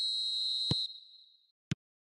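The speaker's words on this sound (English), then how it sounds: "There's the whistle." A referee's whistle at a football match gives one steady, shrill blast that cuts off, followed by a brief dull thump and then a second thump a moment later, with the surroundings otherwise quiet.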